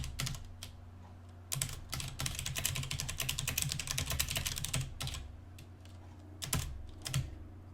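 Code is typed on a computer keyboard in quick, close, crisp clicking bursts with short pauses between runs, recorded quietly with no talking.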